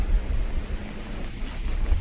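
Rain falls around an outdoor float-fishing spot for crucian carp and carp, a soft steady patter with a low rumbling undertone across a brief moment, with no voices.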